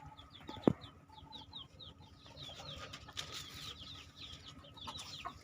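Bangkok and village chickens, including month-old chicks, cluck and chirp softly in a quiet pen, with many small overlapping peeps and one sharp louder squawk early on.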